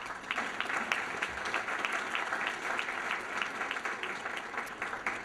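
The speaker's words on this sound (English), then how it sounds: "Nice round of applause for those folks." A dinner audience at the 2011 Woodburn Distinguished Service Awards, held at Wellspring, claps steadily and densely for about five seconds, a sustained moderate wash of many hands with no voices standing out.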